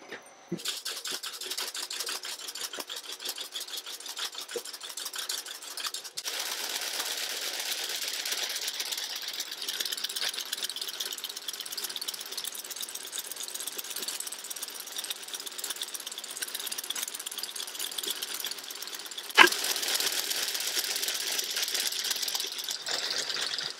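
Fiber mill machinery feeding fibre through a set of combs keeps up a continuous mechanical clatter and whir for over twenty seconds, steady and fairly close, with one sharp knock near the end.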